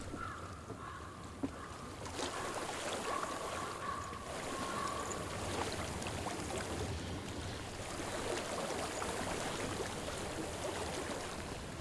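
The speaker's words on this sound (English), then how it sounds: "I hear water." Flowing water in the video game Hellblade: Senua's Sacrifice, a faint steady rush of a stream with soft wind, continuous and without talk.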